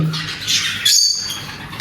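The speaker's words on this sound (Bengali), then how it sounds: "তো গাইস এই হচ্ছে আমার পাখিগুলো।" Pet birds squawk in short, shrill, close-up bursts, a couple of harsh high-pitched calls over a brief moment with no talking.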